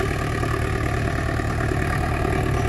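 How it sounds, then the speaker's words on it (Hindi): Sonalika DI 750 III tractor pulling a plough slowly, its diesel engine giving a steady, low, rumbling drone at an even pace throughout, close and continuous with no other sounds. "ये देख सकते हो आप बिल्कुल स्लो रेस के अंदर ट्रैक्टर है वो आराम से चल रहा है"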